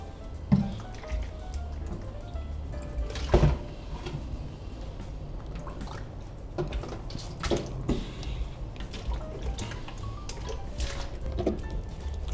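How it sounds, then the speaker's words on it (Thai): Tilapia fish being rinsed with vinegar in a kitchen, giving soft wet drips, squishes and splashes with a few brief knocks, close and fairly quiet, no talking. "แล้วผมจะล้างด้วย น้ำส้มสายชู อีก รอบหนึ่งนะครับ"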